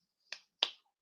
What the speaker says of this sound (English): I give them the golf clap.